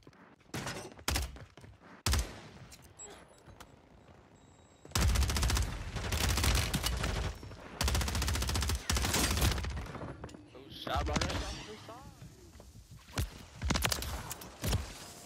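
Bursts of automatic gunfire in a Call of Duty Warzone firefight with a Kilo 141 rifle, sharp isolated shots early giving way to long sustained volleys, close and loud, with brief game voice chatter between.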